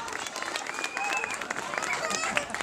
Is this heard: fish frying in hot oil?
no